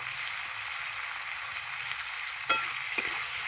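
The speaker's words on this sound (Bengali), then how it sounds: "চিনটাকে লাল লাল করে ভেজে নেব" Food fries in a pan over a wood fire with a steady, moderate sizzle. Two sharp clinks, likely from a utensil, stand out in the second half. No one speaks.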